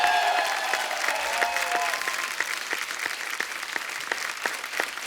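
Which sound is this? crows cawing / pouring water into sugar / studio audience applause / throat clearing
studio audience applause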